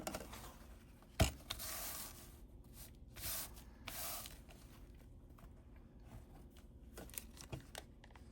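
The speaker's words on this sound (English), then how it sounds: "I may do the spray." Short hiss of spray being applied during bug field journal work, a few quiet broadband bursts with soft rubbing and handling noises between them, close and alone without talk.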